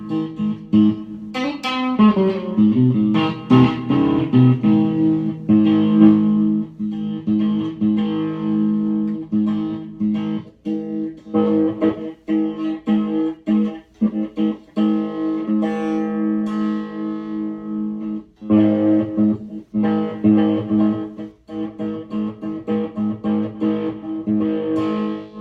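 Clean, reverberant plucked three-string cigar box guitar playing a jazzy chord progression, notes ringing with a spacious echo tail, steady and unaccompanied.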